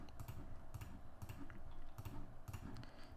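Rapid mouse clicks on a computer running GIMP, clustered in quick bursts of two or three taps repeating every half second or so, close and fairly quiet over a steady low background hum.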